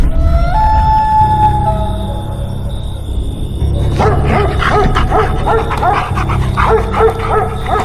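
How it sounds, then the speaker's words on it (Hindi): A cartoon dog barks and yips in a string of bright, rhythmic calls, loud and close, after a stretch of whining, whistling tones, with no talk over it. "घर में एक कुत्ता था जो मुझे देखकर भौंकने लग गया।"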